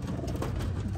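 Racing pigeons coo at release in an outdoor one-loft race, a brief, close burst of soft, low, rolling cooing with no talk.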